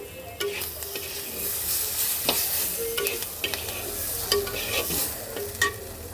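Kaikla fish dopiaza with potato, tomato and green chili being stirred in a hot pan, steady sizzling frying with repeated scraping stirs up close.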